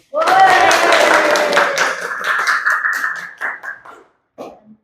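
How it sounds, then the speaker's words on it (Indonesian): A classroom audience claps for a student group after its presentation, a dense burst of hand claps mixed with voices that thins into a few scattered claps and fades out. "Jadi tepuk tangan untuk kelompok 1."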